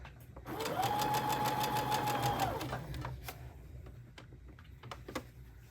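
A sewing machine stitches across the strap of a simple tote bag in a steady whirring run of about two seconds, followed by a few quieter clicks and taps as the fabric is adjusted.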